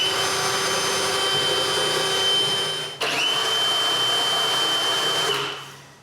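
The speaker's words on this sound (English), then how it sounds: "it's as simple as drilling pilot holes and screwing the hinges" A power drill whines steadily at high speed drilling pilot holes for hinges on a wooden bathroom vanity, stops briefly, then runs again before winding down.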